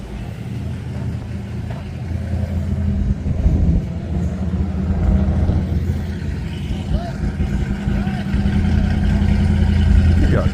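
Classic car engine with exhaust cutouts running at a cars-and-coffee meet, a loud low rumble that swells and rises, with people talking nearby.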